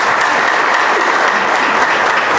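A book launch audience at a church in Ethiopia applauds steadily, a dense, loud wash of clapping from many hands with no break.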